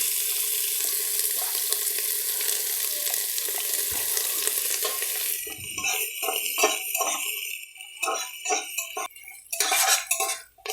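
Chopped onion frying in a pan with whole garam masala spices, two dried red chillies and two bay leaves, a steady sizzle at first giving way to stirring and utensil clatter against the pan.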